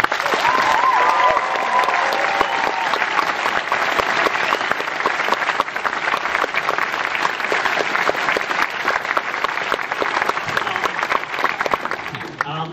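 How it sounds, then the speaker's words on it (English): Audience applause at a BBC drama preview event honouring the Doctor Who showrunner: sustained, dense clapping from a large crowd, even and loud throughout before easing at the very end. "So a round of applause."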